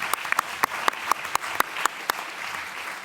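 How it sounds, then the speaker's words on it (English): Scattered applause from a conference audience at a final panel session, with a handful of distinct, sharp hand claps standing out over a steady bed of clapping throughout. "now the moment to give a great applause to all of you who represent this conference"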